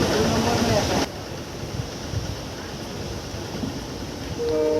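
Inside a moving passenger train, a loud rattling roar fills the first second, then drops to a steadier muffled rumble of the carriage while people converse nearby.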